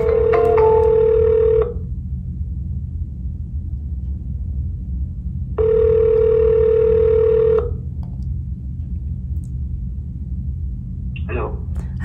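A phone ringback tone on an outgoing call to a sales lead, made of two long steady tone bursts about four seconds apart over a low rumble, with a faint click near the end.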